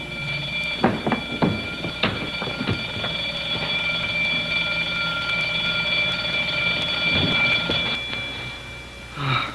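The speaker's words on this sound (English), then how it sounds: "The alarm." A loud electric alarm bell rings continuously for several seconds, a steady metallic clang with sharp knocks early on, then cuts off near the end.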